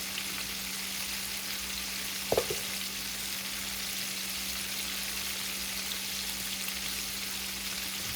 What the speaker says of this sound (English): And we're going to let that fry up.